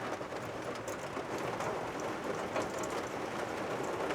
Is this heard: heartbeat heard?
no